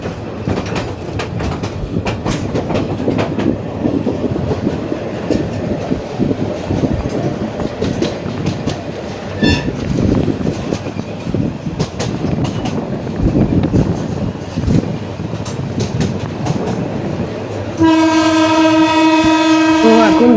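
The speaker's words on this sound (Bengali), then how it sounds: "তো আমাদের ট্রেন অলরেডি এখন চলে আসলো কালুঘাট ব্রিজের পশ্চিম পাশে।" Probal Express train on the Chattogram to Patiya run near Kalurghat bridge, heard from on board: a continuous loud rumble with rhythmic wheel clatter, then a long horn blast near the end.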